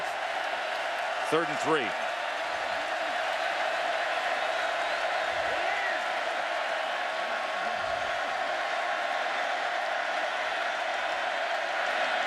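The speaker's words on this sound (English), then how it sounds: "the crowd comes alive" A football stadium crowd roars steadily at Floyd Casey Stadium in Waco during a Baylor home game against Oklahoma, a dense continuous cheer with a play-by-play announcer talking over it.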